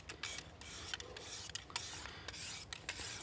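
Knife blade scraped in steady, broad strokes across a whetstone, a continuous close gritty rasp with rhythmic swells and no voices.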